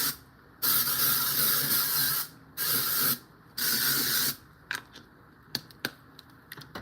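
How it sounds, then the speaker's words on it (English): Dry shampoo sprayed onto a synthetic-fiber wig in three long hissing bursts, close and loud, followed by scattered light handling clicks and taps. "I'm using dry shampoo."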